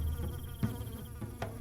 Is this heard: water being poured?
no